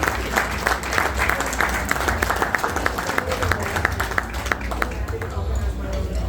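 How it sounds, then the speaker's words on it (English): Applause at a Brisca V8 stock car awards night, a loud, sustained round of clapping from an indoor crowd with speech mixed in and low hum underneath, fading slightly toward the end. "So a round of applause for all of them, please."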